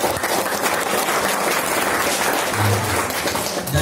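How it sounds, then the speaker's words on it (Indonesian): Steady applause from a seminar audience in a hall, dense and continuous clapping throughout at an even, fairly loud level. "Tepuk tangan sekali lagi untuk Pak Ono."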